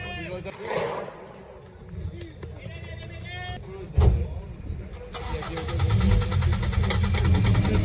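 Race cars in the starting lineup of a six-hour endurance race at the Most circuit, among them a BMW E39, rev and pull away in a rising roar of engines, with a voice speaking over the start.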